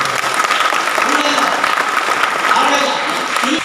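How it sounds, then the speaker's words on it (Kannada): Audience applause at a talk, a steady wash of clapping sustained throughout, with faint voices beneath it. "ನನ್ನ ಮಾತು ಇಷ್ಟ ಆಗಿದ್ರೆ ತಾವು ಚಪ್ಪಾಳೆ ತಪ್ಪು"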